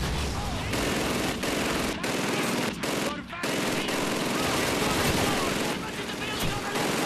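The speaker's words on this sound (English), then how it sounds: "Let's try to do a little more controlled fire." Gunfire in Call of Duty 2 rattles in loud, sustained machine-gun bursts with brief gaps between volleys, dense and close throughout.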